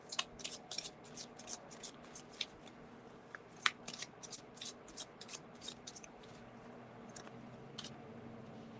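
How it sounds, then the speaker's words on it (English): Tarot cards being shuffled, a run of soft crisp riffles and flicks, quiet and close, with no talking. "she's still shuffling"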